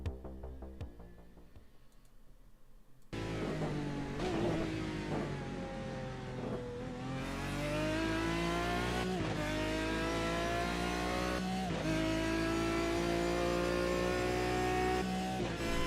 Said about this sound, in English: I want to hear this car go across the line.